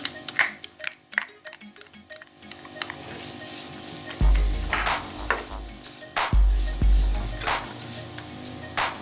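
Onions are added to a chicken mixture already sizzling in a pan for chicken kachori filling, which brings a loud surge of frying hiss with clattering stirs and taps, after quieter sizzling.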